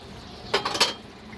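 Metal lid lifted off a pan of simmering mutton curry with potatoes, giving two quick clinks and scrapes close by, short and moderately loud against a quiet kitchen background.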